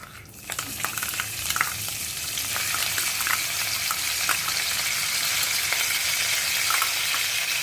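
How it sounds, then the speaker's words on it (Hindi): Onions fry in oil in a pan for Lahori chicken, sizzling loudly and steadily throughout with scattered crackles and pops close by. "प्याज को गोल्डन ब्राउन होने तक भूनेंगे"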